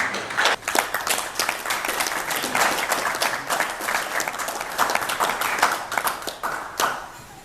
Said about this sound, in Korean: 큰 박수로 맞아주십니다.